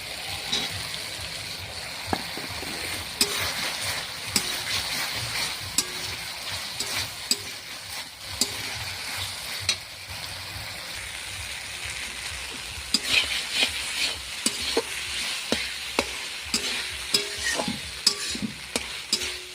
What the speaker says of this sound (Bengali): ক্যাপসিকামটা দিয়ে আমি দু মিনিট কষিয়ে নিলাম